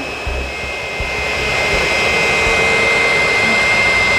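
Variable geometry turbocharger (VGT) turbine on an engine spinning, a sustained high-pitched whine over a steady roar, gradually growing louder with a few low knocks near the start.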